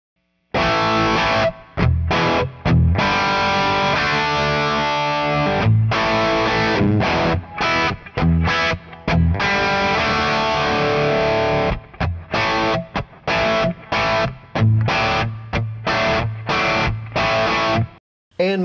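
Overdriven electric guitar amp, recorded with a ribbon mic, plays chopped chord stabs and sustained riffs, close and loud, with short silent breaks between phrases.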